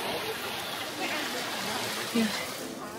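Rain falls outside in Vienna, a steady, even hiss of water on the street that continues the whole time, with a brief sharper sound near the end.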